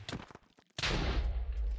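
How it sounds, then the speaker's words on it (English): A loud burst from an explosion attack in the video game Avatar: Master of Elements, a sharp broadband blast that swells and holds a heavy rumbling roar for over a second after a brief stretch of quieter sounds. "Explosions!"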